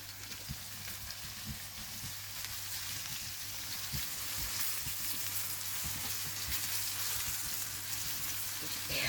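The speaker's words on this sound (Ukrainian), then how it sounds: "йдемо обсмажувати їх на оливковій олії зі спеціями" Steady sizzling of quail frying in hot olive oil with spices, a constant crackling hiss that grows slightly louder, with occasional soft clinks.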